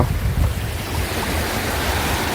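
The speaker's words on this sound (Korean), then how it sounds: "파도가 세게 밀려오는데" Strong sea waves surge onto a night shoreline during low-tide foraging, a loud continuous roaring wash with rumbling low end and wind noise buffeting the microphone, with no talk.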